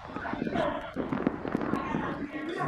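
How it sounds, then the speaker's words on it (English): Fireworks crackle and pop during Chinese New Year celebrations, a dense continuous barrage of bursts outdoors, loud and steady, with voices mixed in. "The fireworks are fun because they are colorful and loud."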